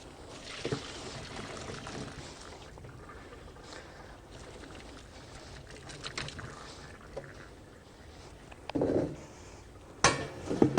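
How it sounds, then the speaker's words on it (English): Boiled rice noodles tipped into a drainer by a kitchen sink, with faint pouring and trickling water, soft clatters of a pot and utensils, and a few louder knocks and splashes toward the end. "taking it to my drainer by the sink and draining it off"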